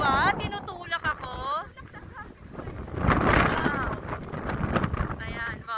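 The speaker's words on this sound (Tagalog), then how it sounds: "Ayan na, sobrang ang lakas ng hangin." Strong gusts roar into the microphone outdoors in Tagaytay, loud and buffeting throughout, with a woman's speech partly buried beneath the wind.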